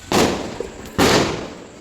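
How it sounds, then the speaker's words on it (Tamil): Two loud firecracker bangs about a second apart, each a sharp burst trailing into a short crackling decay, set off during a family Diwali celebration. "கீழே ஏற்கனவே எல்லாருமே வந்து நிறைய பட்டாசு வச்சுட்டே இருந்தாங்க"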